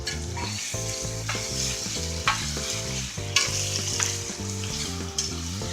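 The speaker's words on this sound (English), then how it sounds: "So now what we're going to do is scrape the bottom of the pan." A spoon scrapes the bottom of a pan as red wine cooks down into a beef Bolognese, with repeated close scraping strokes over a steady loud sizzle and a melodic music bed beneath.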